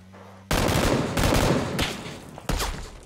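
Bursts of gunfire in the battle royale game PUBG, a sudden loud volley of rapid shots breaking in after half a second, then further overlapping shots from another shooter, loud and close with no talk.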